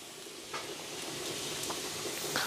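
Garlic fries in plenty of oil in a pan, giving a steady, faint sizzle and crackle that holds throughout with small pops.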